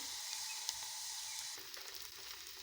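Potatoes sizzle loudly in hot oil in a pan for North Karnataka aloo palya, a steady close hiss that shifts as the pieces settle, with no talking.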